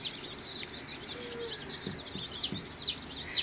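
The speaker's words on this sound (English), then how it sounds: "These are black Australorp chicks." Black Australorp baby chicks peep in soft, high, rising chirps, scattered and intermittent over a quiet, low murmur of background noise.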